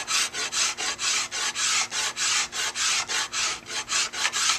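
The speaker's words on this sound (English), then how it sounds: "So I just scrape it off until I can't see the black marker anymore." A hand scraper shaves wood off a flatbow limb in quick, even rasping strokes, about sixteen close, crisp scrapes in a steady back-and-forth rhythm with no talking.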